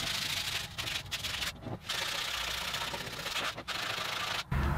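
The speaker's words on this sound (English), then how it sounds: "Hand sanding on cast iron." Hand sanding on a rough cast iron pan produces a steady scratchy rubbing with brief pauses between strokes, close and fairly quiet, with no talking.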